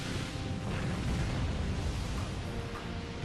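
Torpedo explosions in the naval combat game Naval Ops: Commander, a low, rumbling wash of muffled blasts that rolls on steadily and faintly for a few seconds without sharp breaks.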